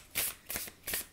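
Quantum Oracle cards are shuffled in three quick riffles, each a soft, close, papery burst separated by short pauses, with no talking over them.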